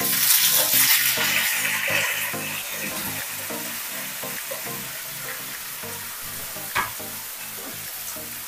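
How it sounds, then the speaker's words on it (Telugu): Tomatoes frying in a pan for chutney, with a steady close sizzle and repeated stirring scrapes throughout, one sharper clink near the end. "జస్ట్ మనం పచ్చివాసన పోయేంత వరకు వేగించుకుంటే సరిపోతుంది. సో ఇందులోనే ఒకేసారి మనం టొమాటోలు కూడా వేసేసుకోవాలి."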